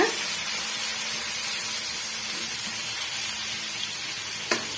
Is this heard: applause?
no